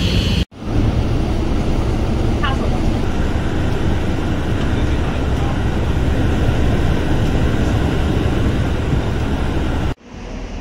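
An airliner rolls along after landing at Nanchang Changbei airport, heard from inside as a loud, steady broadband roar of engines and rumbling that holds for about ten seconds before dropping off abruptly.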